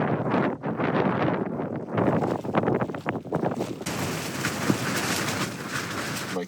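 Strong wind buffets the microphone at a mountain base camp around 3,000 meters in Mongolia, a loud, continuous roar with gusty surges and no voices.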